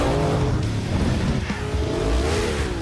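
Dune buggies racing in the desert for the Jumanji film, with loud roaring engines that rise and fall as the vehicles close in and pass.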